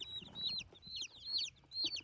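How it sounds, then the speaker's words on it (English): Baby chicks cheeping in a cardboard delivery box with a small food tray, sounding as repeated high, thin peeps in short bursts, fairly close and clear, with faint rustling underneath and no talk. "Little chickies."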